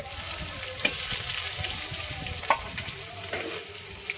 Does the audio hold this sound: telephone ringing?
no